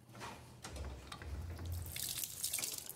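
Clean water pours steadily from a windmill-driven water pump with a short 15 cm stroke, a continuous splashing rush with a low rumble underneath, close by and with no talking.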